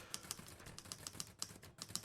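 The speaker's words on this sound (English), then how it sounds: "He moves to the typewriter, center stage." On a stage, someone types on a typewriter. Faint, rapid keystrokes come in an uneven rhythm, with no voices.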